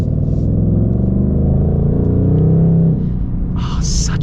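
A deep V8 engine in a 2025 Ford Mustang Dark Horse rumbles loudly up close, its pitch climbing and then dropping away, with brief higher noises near the end.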